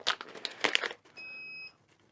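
Rustling and crinkling handling noises while weighing hops for brewing beer, then a single steady electronic beep from the scale lasting about half a second, fairly close.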